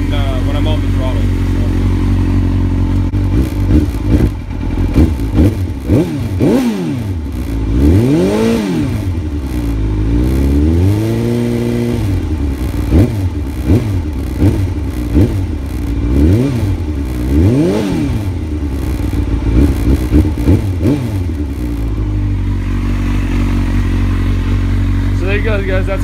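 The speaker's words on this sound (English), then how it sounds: "give it some throttle" A 2000 Suzuki GSX-R 750 sport motorcycle fitted with a Yoshimura piggyback engine management unit revs repeatedly under throttle. The engine rises and falls in close, loud bursts while someone talks over it.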